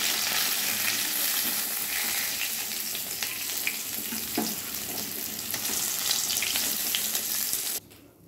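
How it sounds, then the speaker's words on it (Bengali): Katla fish pieces sizzle loudly in hot oil as they are turned and lifted out, a dense continuous frying hiss with scattered scraping and stirring clicks, stopping sharply near the end. "মাছগুলো ভাজা হয়ে গেছে, এবার আমি তুলে নিচ্ছি"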